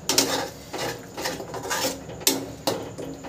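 A spoon stirs egg curry masala with salt in a metal pan, scraping and clinking in irregular strokes, with several sharp knocks against the pan.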